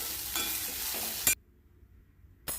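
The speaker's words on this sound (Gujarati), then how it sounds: "અહીંયા આપણે ભીંડી છે સરસ રીતે ફ્રાય થઈ ગઈ છે" Okra (bhindi) sizzles and crackles in a frying pan as a spatula stirs it with scraping strokes, then the sound cuts to near silence before a burst returns.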